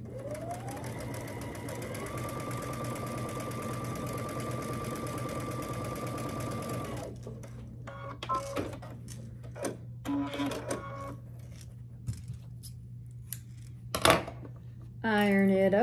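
A sewing machine runs steadily for several seconds while stitching a quarter-inch seam on a churn dash quilt block, then stops, leaving scattered clicks and handling noises of fabric and tools.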